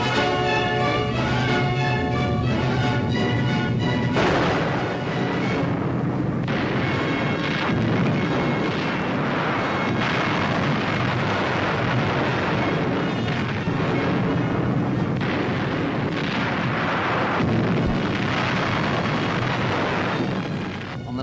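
Archival WWII RAF Bomber Command raid, likely on Düren, with dense, continuous rumbling explosions and booming blasts layered over each other, loud and sustained throughout.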